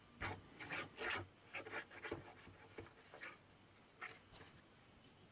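A rabbet plane shaving an old butcher block in a series of short rasping strokes, each a quick scrape, close and fairly quiet.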